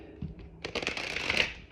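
An oracle card deck is riffled and shuffled close up, a brief thump followed by a quick flurry of crisp card flutters, quiet and with no talking.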